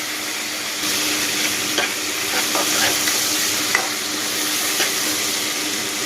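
Ginger garlic paste sizzles steadily in a pan, with a few clicking scrapes from stirring scattered over the hiss. The frying comes in abruptly after a quieter opening, and no one speaks.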